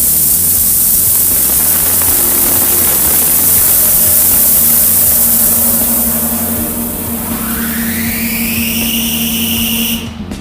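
An ultrasonic cleaning machine holding a stainless steel single-well sink runs with a loud, steady hissing noise, which fades as the unit is switched off near the end, leaving a brief rising electronic tone.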